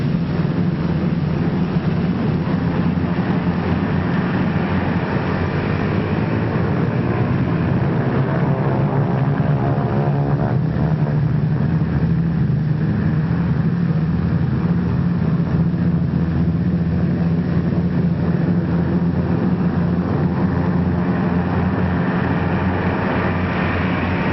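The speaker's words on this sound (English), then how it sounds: "More than a score of United States liberators warm up for the takeoff from a field somewhere in North Africa." More than a score of US B-24 Liberator bombers warm up their engines on a North African airfield, a dense, steady droning roar that holds unbroken and loud throughout on an old, muffled wartime recording.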